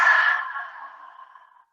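A single deep exhale during yoga breathing, a soft breathy rush that starts strong and tapers away over about a second and a half, close and alone.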